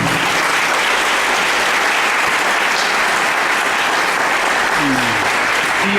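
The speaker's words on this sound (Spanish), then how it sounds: "para quien también les pido un aplauso" Audience at a legal forum on anti-money-laundering law gives a sustained round of dense, even applause for an introduced tax-law speaker, steady throughout, with a voice briefly surfacing near the end.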